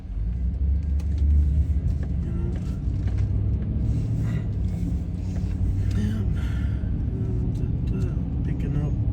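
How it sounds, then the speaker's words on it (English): Steady road traffic rumbles along main roads in Winter Haven, Florida, a continuous low engine drone of cars passing, with a voice talking over it throughout. "Lots of main roads, lots of cars passing through and out."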